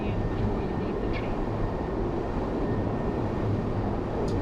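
A ScotRail Class 385 train runs between Edinburgh and Glasgow in Train Sim World 3, a steady low rumble and hum of the train in motion throughout, with faint higher squeaks.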